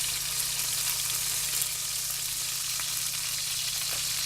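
Chicken pieces fry and brown in hot grease in a pan for chicken parmesan, a constant even sizzle with faint spitting pops, steady and uninterrupted with no talking.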